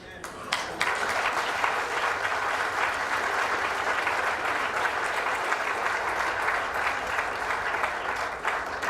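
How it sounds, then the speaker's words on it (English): An audience applauds the foot soldiers at a civil rights commemoration, sustained steady clapping from a large crowd that starts abruptly and continues evenly for nearly nine seconds. "kindly stand now and receive the applause from the audience"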